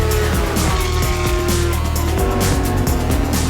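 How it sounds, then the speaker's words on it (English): Race car engines roaring at the Le Mans long-distance endurance race, a loud continuous engine drone with harmonic whine and repeated gear-shift pulses, dominating the scene with no talking. "For the 83rd time, the engines roar at the long-distance classic in Le Mans"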